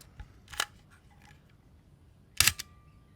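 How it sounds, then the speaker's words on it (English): Two sharp mechanical clicks from a Praktica Nova SLR film camera shutter firing at 1/500, one near the start and a louder one later, alone with no talk in a quiet room. "I think the shutter firing mechanism is fine, but it doesn't close to finish"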